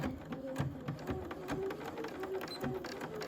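A sewing machine stitches along the gusset of a tote bag, running steadily at close range beneath a voice speaking.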